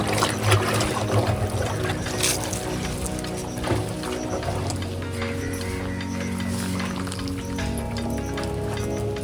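Organic fertilizer slurry being stirred in a half-filled water tank on a mixed fish and fruit farm, giving continuous sloshing and trickling water close by, with a steady churning rhythm and no voices.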